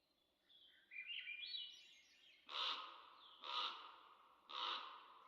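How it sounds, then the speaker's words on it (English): Birds call in the video game Minecraft: a rising warbling chirp, then three loud, evenly spaced caws, each close and clear against a quiet background. "Birds."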